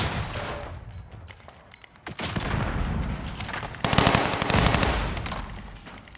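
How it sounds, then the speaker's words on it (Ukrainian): Gunfire fills a Call of Duty: Modern Warfare match, rapid clustered shots arriving in short bursts that swell into dense, loud volleys with crackling overlap, the firing intensifying toward the end. "По три патрони стріляє"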